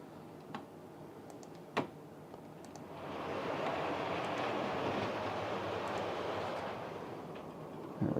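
Model train locomotive Tornado running on its track, a soft rumble rolling in after a few small clicks and knocks, then holding steady and fairly quiet to the end.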